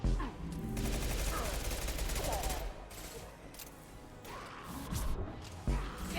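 Impact shot gunfire and heavy crashing blasts in the sci-fi shooter Mass Effect 2, a loud barrage of repeated bursts with whooshes and impacts, with a brief lull before the firing picks up again near the end.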